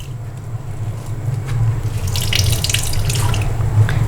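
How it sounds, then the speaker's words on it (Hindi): Grated potatoes for hash browns being squeezed by hand, with wet squishing and water dripping and trickling steadily into a bowl, close and fairly loud, over a low background hum. "इसको हमने अच्छी तरह से स्क्वीज़ करना है कि आलू का जो भी एक्सेस पानी हो वो निकल जाए"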